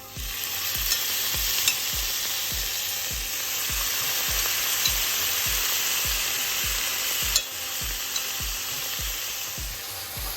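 Curry paste and a little water being stirred in a pan on the stove for a red lentil dahl, with a steady rhythmic scraping of the spoon over a constant low sizzle, close and continuous with no talking.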